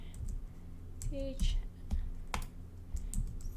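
Someone types a Linux chmod permission command on a computer keyboard, a close run of uneven key clicks with a few heavier strokes, over a low background hum.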